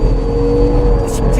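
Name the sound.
Hyundai Grandeur IG engine revving on race circuit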